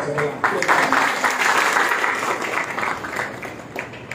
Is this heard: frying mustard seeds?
no